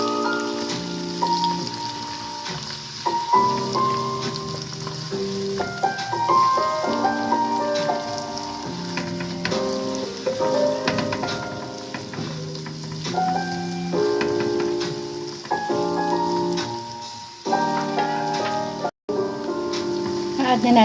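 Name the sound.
onions sizzling as they fry in oil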